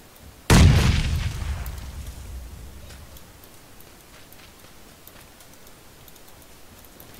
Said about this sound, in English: Threw a grenade.